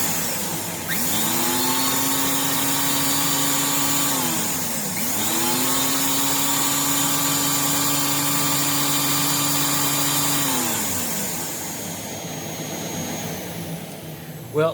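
A Rainbow R-2800C vacuum power nozzle runs steadily and loudly, its motor whine dipping and rising in pitch twice as it is pushed across a surface, then easing off near the end.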